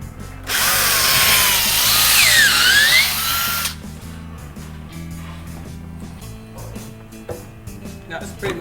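A power drill drives screws into wood at an angle, whining loudly and close for about three seconds before stopping. Quieter clicks and handling noises follow while people talk in the background.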